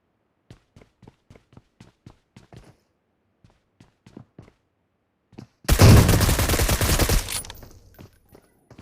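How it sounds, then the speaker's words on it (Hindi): AWM sniper rifle in a video game, with a series of soft footsteps followed by one sudden loud shot and a burst of rapid gunfire that rings out for over a second before fading. "वो ओम मार रहा था मेरे को, AWM से मेरे सर पे निशाना था उसका।"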